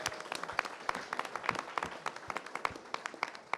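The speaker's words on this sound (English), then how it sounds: "let's give you all a round of applause as well" Audience applause at a city council skilled trades task force meeting, a modest group clapping with distinct individual claps, fairly quiet and steady.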